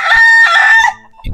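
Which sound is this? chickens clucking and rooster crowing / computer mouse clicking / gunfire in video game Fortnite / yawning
chickens clucking and rooster crowing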